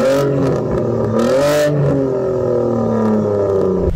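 A Saab 9-3 with a turbocharged 2.8 V6 engine revs up and down, its loud rising and falling engine note sweeping through several throttle blips with no voices over it.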